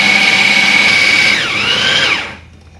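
An electric meat grinder works frozen meat for meatballs, its loud, steady motor whine running continuously, dipping briefly in pitch near the end before cutting off into near silence.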